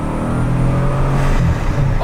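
A Bugatti Divo hypercar engine roars and revs steadily up close, a deep rumbling drone with a rising accelerating tone throughout.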